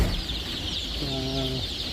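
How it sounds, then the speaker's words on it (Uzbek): Leghorn chickens and chicks cluck softly in a pen, a few short calls over a steady background hiss of birds and farm noise. "Legorinlar, mana jo'jalar."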